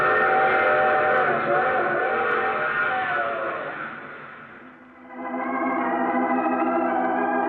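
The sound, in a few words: train passing with whistle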